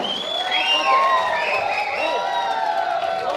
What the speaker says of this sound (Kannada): ಚಪ್ಪಾಳೆ ಬರ್ಬೇಕಪ್ಪ, ಭರ್ಜರಿ ಚಪ್ಪಾಳೆ